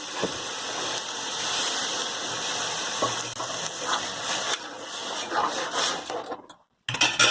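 Curd being poured into red lentil curry in an aluminium kadhai, a steady wet hiss and bubbling that sputters irregularly, breaks off into brief silence, then resumes loudly.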